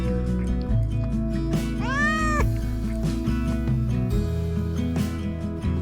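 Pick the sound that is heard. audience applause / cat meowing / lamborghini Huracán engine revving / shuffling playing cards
cat meowing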